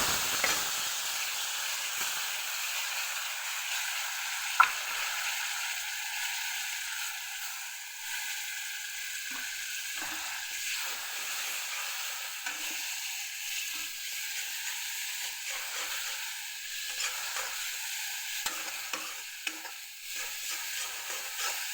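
Spice masala of cumin, coriander and chili powder, with water added to make a gravy, frying and being stirred in a pan as a steady soft sizzle with scattered scraping strokes, close by and without talking.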